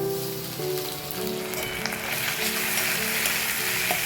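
Chopped tomato and ginger paste sizzle and crackle in a pan while being stirred, a steady, close, dense frying hiss broken by a few clicks of the spoon, with no voices.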